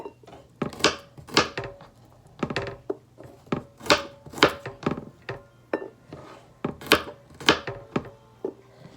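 A knife slices garlic on a cutting board for a chilli sauce, each cut landing as a sharp knock against the board in a quick, irregular run of about two dozen strokes, close up and with no talking.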